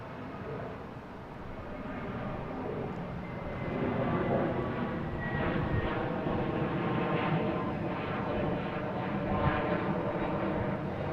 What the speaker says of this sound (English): We got a JetBlue heading to Milan.